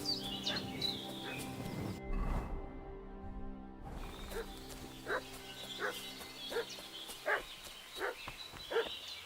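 Repeated dog barks from the video game Kingdom Come: Deliverance II, a series of short, sharp calls at moderate distance over outdoor ambience with faint birdsong, pausing briefly before resuming.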